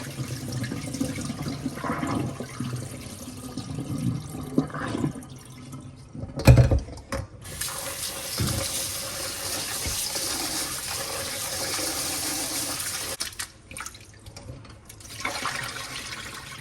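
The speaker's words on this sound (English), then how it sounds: "We're going to drain it and then wash one more time." Rice for Jamaican rice and peas being washed and drained, water pouring and splashing in bursts with a gush near the middle, trickles and drips between, and no talking.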